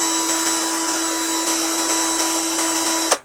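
An HL 912 cordless drill, running at its second variable speed of about 1300 rpm, gives a steady, high-pitched motor whine heard close and alone, ending in a short knock as it stops.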